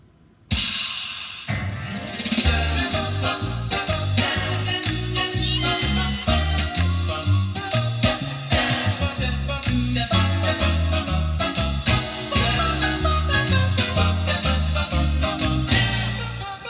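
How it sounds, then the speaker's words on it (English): An upbeat Scat Swing groove on a Roland VA-76 arranger keyboard, with a bouncing bass line, chords and percussion playing continuously, no talking. "So the Scat Swing sounds like this."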